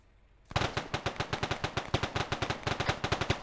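Automatic gunfire in the military simulation game Arma 3 rattles out in a rapid, steady string of sharp shots, loud and close, starting abruptly after a brief quiet moment.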